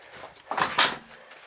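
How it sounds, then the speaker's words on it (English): A door swings open in a greenhouse propagation room: two quick, fairly loud rustling, clattering bursts close by against a quiet room. "let's leave that door open"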